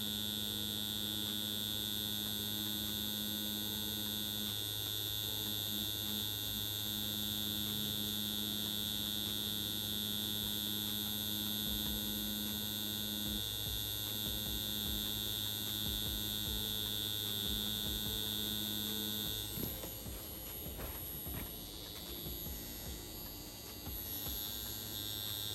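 Steady electric buzz and hum of a tattoo machine needle running while small letters are tattooed, continuous and close for most of the stretch, shifting and roughening near the end.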